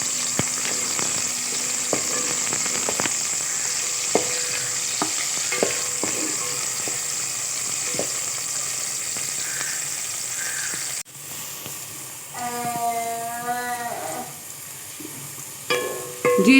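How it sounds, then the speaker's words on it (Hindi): Chopped onion browning in oil in a deep pot, a steady soft sizzle with occasional ticks and pops, broken near the end by a few brief squeaky scraping sounds. "प्याज को हम ब्राउन करेंगे"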